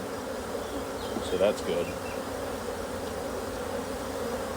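Honeybees buzz steadily around hive frames during a beekeeping inspection, a close, continuous droning hum with a brief louder swell. A person speaks a few words over it.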